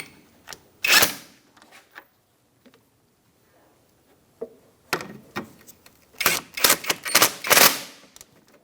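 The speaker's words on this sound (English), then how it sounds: "You're going to snug up your caliper bolts." Caliper bolts being snugged up on the front brake of a 2005–2010 Chrysler 300, a series of sharp metallic ratchet clicks and tool clanks in bursts, with quiet gaps between them, close and loud.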